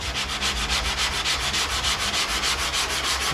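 A sanding block rubs back and forth across body filler on a car panel in quick, even strokes, each pass a loud close scrape, repeating steadily with no voices.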